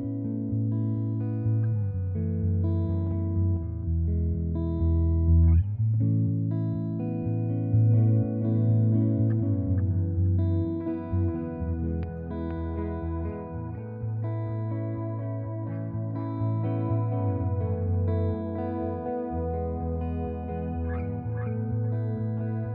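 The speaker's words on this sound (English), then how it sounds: "I'm gonna run the EQ into the echo unit so you can really hear what's going on" Sustained, echoing tones played through an Empress ParaEQ MKII Deluxe equalizer feeding an echo unit, forming a continuous passage of layered notes with repeats and a reverberant tail, with no talking.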